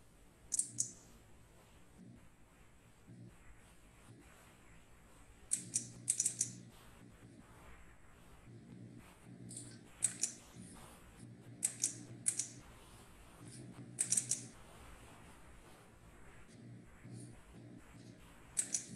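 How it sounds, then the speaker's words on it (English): Computer keyboard typing in scattered bursts of quick, sharp clicks separated by quiet pauses, close and fairly faint, with no talking. "Just like here I am typing this form tag."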